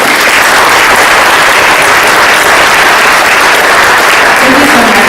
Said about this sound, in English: I want to give a huge round of applause for our panelists